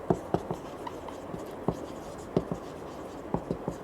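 Chalk or marker writing on a board in a classroom, heard as a series of short, sharp scratchy strokes with irregular spacing against a steady room hiss.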